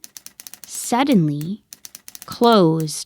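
A typewriter clatters with rapid, evenly spaced key strikes close by, broken twice by a voice speaking over it; the tapping is crisp and sharp, and a final few keys follow the speech.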